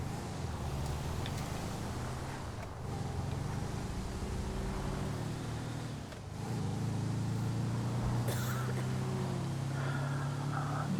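Truck driving in a video game with a steady engine rumble and drone, moderately loud and continuous, with a slight surge partway through and a faint voice briefly over it.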